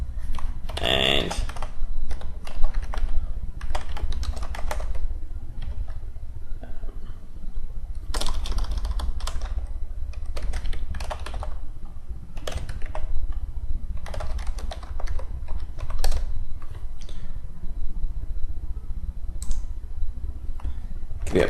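A password goes in on a computer keyboard during a System Center Service Manager 2010 SP1 install, with bursts of quick key clicks and taps, close and fairly crisp, spread over about twenty seconds with short pauses.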